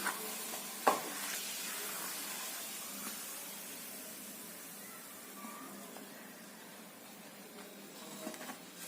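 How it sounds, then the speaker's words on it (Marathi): Red poha papad frying in hot oil in a kadhai, a soft steady sizzle with a sharp crackle as it drops in and puffs up, quiet and close with no talking. "आम्ही तेलात टाकते बघा किती मोठं होते फुलतोय"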